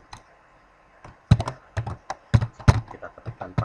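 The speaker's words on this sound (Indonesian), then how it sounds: "Kita ketikkan passwordnya, kita masuk." Close, loud keystrokes on a computer keyboard as a password is entered, starting after a second of quiet and continuing in quick uneven clusters of clicks, with no voice.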